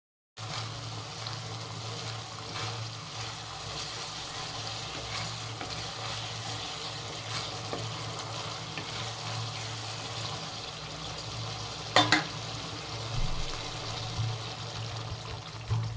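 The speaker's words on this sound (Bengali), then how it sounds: "আর একটু ভালো করে মশলাটা কষিয়ে নেব" Spice paste for jeera hilsa sautéing in a pan after a splash of water, a steady broadband sizzle and bubbling with occasional stirring scrapes, a sharper clatter near the end, no voices.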